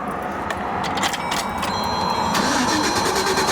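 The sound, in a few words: car engine cranking over but not starting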